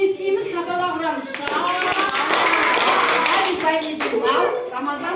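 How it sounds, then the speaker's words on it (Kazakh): A class of second-grade schoolchildren claps together in a classroom, a dense, sustained burst of many small hands lasting several seconds, with a voice briefly audible around it. "Шапалақ ұрамыз."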